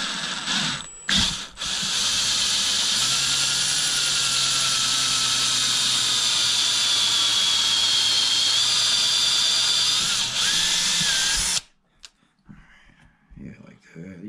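A power drill runs steadily for about ten seconds with a grinding whine as it bites into a metal carburetor on a Yamaha Banshee, then stops, leaving light clatter.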